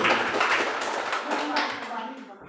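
Classroom applause for a student group after their first presentation, a short burst of many hands clapping fairly close, thinning toward the end, with voices chattering underneath.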